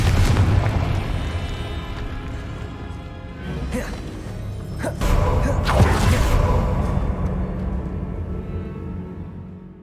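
A Confringo fire-blast spell goes off in Hogwarts Legacy with a heavy booming burst, followed by rumbling crashes and a second loud surge of blast noise that slowly fades away.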